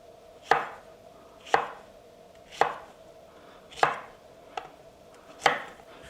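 A knife chops through okra on a cutting board with six sharp, evenly spaced strokes roughly a second apart, each a crisp close thud ringing briefly against a quiet background.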